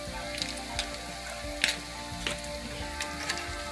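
Taquitos dorados frying in hot oil, a steady close sizzle with scattered crackles and pops from the pan, no voices.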